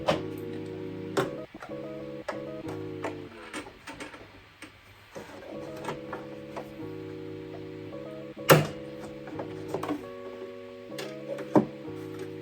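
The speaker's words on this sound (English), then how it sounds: "My machine definitely had some difficulties going over that zipper" A sewing machine stitching over a zipper, running in steady mechanical bursts with tonal hum, pausing and restarting, with sharp knocks and clicks as it labors across the teeth.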